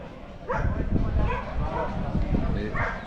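Ibizan hound in Spain barking in short sharp yips and whimpering bursts nearby, repeated several times amid outdoor background noise.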